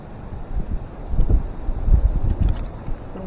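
Gusty wind buffets the microphone on a boat out on the water during bait fishing, low rumbling surges rising and falling throughout with no talking.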